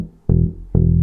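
Bass guitar notes from a line moving up an arpeggio as a fill between chords, two clean plucked notes sustaining in turn, close and unaccompanied.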